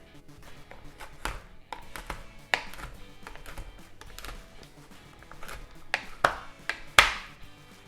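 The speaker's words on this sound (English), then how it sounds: "I'm going to chop all of my bars, and I'm just using a bread knife" A bread knife chops through chocolate bars on a board for tempering homemade chocolate, giving a run of irregular knife taps and cuts, close and fairly sharp, with the loudest strokes near the end.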